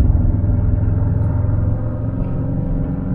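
A Subaru STI with an EJ25 engine drives gently with no boost, giving a steady low engine rumble and road drone heard from inside the car, constant and unbroken throughout.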